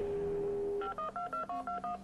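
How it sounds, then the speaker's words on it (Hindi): Telephone keypad tones dial out for a phone-a-friend lifeline on the KBC quiz show: a steady dial tone, then about seven quick, evenly spaced beeps, clear and unaccompanied. "सदानंद साहब को फोन लगा दीजिए प्लीज"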